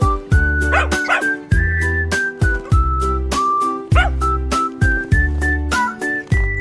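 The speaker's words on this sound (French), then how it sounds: "aboyait fièrement et remuait la queue." Short cartoon-style dog barks pop out over a bouncy children's song with a steady beat and melody.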